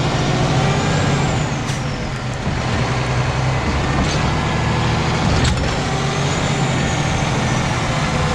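A tow truck loading a car in a residential neighborhood: a steady, loud diesel engine drone and mechanical hum with brief air-brake-like hisses, continuous throughout.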